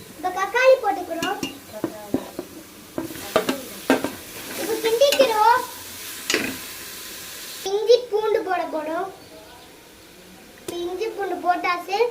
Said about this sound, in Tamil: அது பச்சை வர போகிற வரைக்கும் கொஞ்சம் கிண்டுங்க